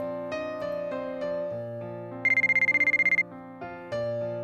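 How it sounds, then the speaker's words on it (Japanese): A mobile phone ringtone in a visual novel video game chirps as a rapid run of bright, pulsing electronic beeps for about a second, sitting over steady background music with no talking. "春樹、あんたの電話。"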